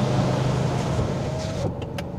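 Power window of a Jaecoo J7 PHEV car closing, a steady motor whine under road noise that rises slightly and ends with a soft thud as the glass seals, after which the cabin goes quieter.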